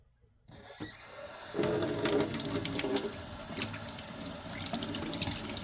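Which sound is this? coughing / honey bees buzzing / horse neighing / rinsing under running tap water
rinsing under running tap water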